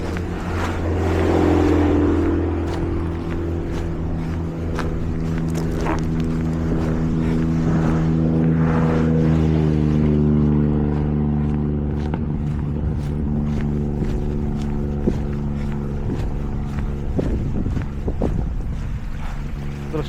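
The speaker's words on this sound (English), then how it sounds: "I'll wait for these couple of fucking cars to come by." A couple of cars pass on a road beside a hiking trail, a broad engine and tire roar swelling and fading over about twenty seconds, with wind buffeting the microphone.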